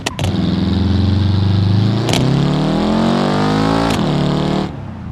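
Car engine in BeamNG.drive with a broken exhaust, revving hard in three rising and falling pulls with rough, raspy harmonics, loud and close, cut by brief crackles between revs.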